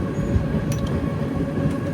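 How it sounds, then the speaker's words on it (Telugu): The Kacheguda Express, train 17654, creeps slowly along the tracks past homes, giving a steady, close, continuous low rumble of wheels and carriages with no voices. "ఒక 10 కిలోమీటర్స్ దాకా ట్రైన్ మెల్లగా పోతుంది ఇక్కడ"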